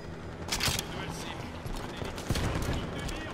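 Gunfire from a sniper rifle in Halo 5: Guardians, played on Xbox Series X, as a few sharp shots and a busy game-effects bed over a few seconds, with no talk over it.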